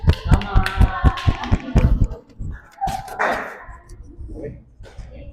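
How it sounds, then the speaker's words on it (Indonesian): Schoolchildren in a classroom clap their hands in a short burst of sharp, uneven claps that trail off into scattered taps, with voices talking afterward. "Betul. Tepuk tangan dong."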